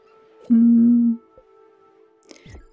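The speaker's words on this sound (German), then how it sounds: "Und ein Schaf." Sheep bleating in the video game Spiritfarer, a single loud drawn-out bleat lasting about half a second, followed by quieter game sounds and a brief rustle near the end.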